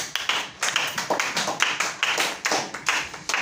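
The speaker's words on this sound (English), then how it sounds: "Give her a round of applause" A small group in a classroom claps for a student, a few distinct, close, rhythmic clap bursts repeating steadily with no talk over them.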